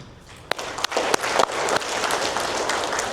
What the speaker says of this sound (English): I would like to give a big round of applause to every single person in this hall